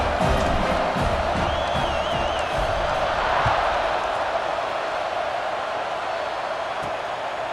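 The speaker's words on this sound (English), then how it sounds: "You think this crowd's going to get loud when their defense comes on the field?" A large stadium crowd in EA Sports College Football 26 roars steadily throughout, a dense wash of cheering and whoops with faint scattered thuds underneath.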